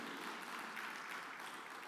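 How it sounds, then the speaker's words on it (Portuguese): Church congregation applauding during a worship service, steady faint wash of clapping across the whole moment, heard from a distance. "Dê uma forte salva de palmas para Jesus"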